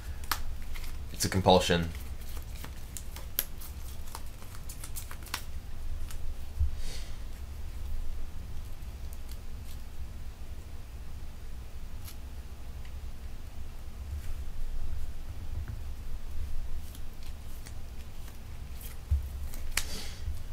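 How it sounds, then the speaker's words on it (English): Magic: the Gathering cards are shuffled in quick flicking riffles with sharp papery clicks early on, then scattered light ticks under a man's brief speech. "I'm shuffling cards while I'm doing this. If you hear that flicking sound,"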